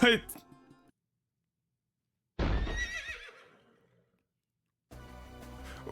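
A horse whinnies loudly in a bright, game-like burst after a short silence in a video game, then musical sound returns toward the end.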